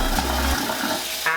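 Tap water runs steadily into a sink during a skin care routine, switched to cold toward the end, with a loud, close hiss and splash that continues without pause.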